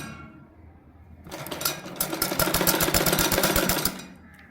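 A sewing machine runs a quick burst of stitching around a shirt neckline, a rapid even mechanical rattle close by after a quiet start, then stopping.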